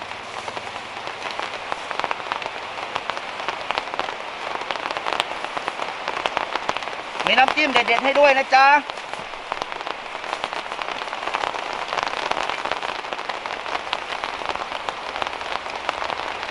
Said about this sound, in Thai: เออฝนตกครับ สู่กับฝนเมื่อนี่